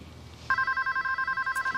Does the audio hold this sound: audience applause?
no